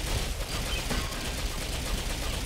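Hip-fired automatic gunfire in the shooter Ghost Recon Phantoms, a steady, dense rattle of rapid shots running throughout, loud and near with no clear gaps.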